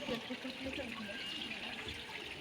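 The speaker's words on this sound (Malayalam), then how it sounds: "ശിവൻ്റെ തലയിൽ കൂടെയാണ് ഈ വെള്ളം ഒഴുകി വരുന്നത്." Steady running water flows continuously at a Hindu temple, like a stream pouring from a spout, with faint voices murmuring in the background.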